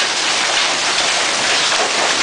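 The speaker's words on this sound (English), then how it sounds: "There's some hail, it's about quarter size" Quarter-size and marble-size hail pours down in a steady, dense hiss during a hailstorm, loud and close with no pauses and no voices.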